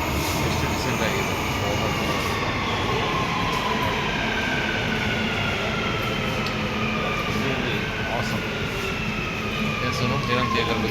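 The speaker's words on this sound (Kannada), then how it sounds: "ಮೆಟ್ರೋ ಬಂದುಬಿಡ್ತು" A metro train runs at a Dubai station with a steady, loud rolling roar and faint whining tones gliding through it, while a voice briefly speaks over the din.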